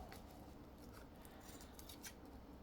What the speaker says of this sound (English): scissors and just trim off the excess along these